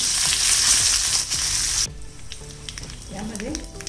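Curry leaves hit hot oil while Kolhapuri misal masala is being made, a loud bright sizzle that cuts off sharply partway, leaving quieter frying and faint stirring.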